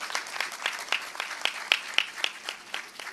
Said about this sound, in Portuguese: peço uma salva de palmas antecipada